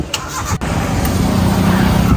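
A vehicle engine starts after a sharp click and settles into a steady, close idle hum as a family boards, with faint voices at the start.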